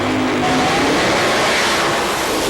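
Alcohol Funny Cars or Pro Modified drag cars launch at the 2008 IHRA Rocky Mountain Nationals, one spinning its tires, in a loud, continuous engine roar that fills the whole stretch.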